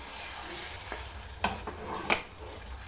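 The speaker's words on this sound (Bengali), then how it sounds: "চিকেন আমি 5 মিনিট ভালোভাবে কষিয়ে নিচ্ছি আর টক দইটা দিয়ে দিলাম 1/2 কাপ মতন" Chicken pieces coated in sour yogurt being stirred and fried in a pan, a steady sizzle with two sharp scraping clatters of the spoon partway through.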